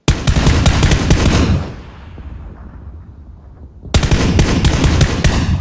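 Loud, close M4 rifle fire in a video game, dense rapid automatic bursts, a roughly two-second pause with a fading tail, then another sustained burst.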